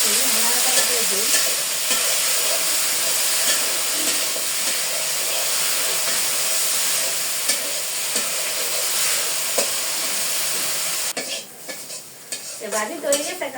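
Chopped okra fries with salt in a hot pan as it is stirred, giving a continuous close sizzle and hiss broken by scraping strokes, with clattering handling noises toward the end.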